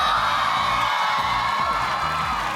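Studio audience of a Filipino game show shouting and cheering loudly in a continuous, dense crowd roar throughout.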